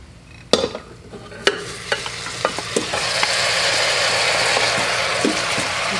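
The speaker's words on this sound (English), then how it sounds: "Give them a bit of a toss in that. Mix that up really well." Spaghetti squash strands are tossed with browned garlic in an Instant Pot, a few sharp utensil clacks against the pot followed by a soft, steady sizzle under continued stirring.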